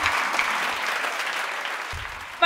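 An audience at an Ayudha Puja special pattimandram debate breaks into sustained clapping to welcome a speaker, a dense, even burst of applause that fades slightly toward the end.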